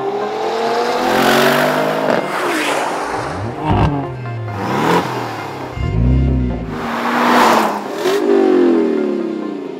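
Performance cars revving hard on road and track during a 2018 performance car competition, several loud engine runs rising and falling in pitch as cars accelerate and sweep past, with no talk.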